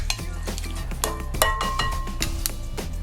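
Roasted cauliflower being stirred and tossed with salt in a bowl, close-up scraping and clinking of a utensil against the dish in a quick irregular rhythm.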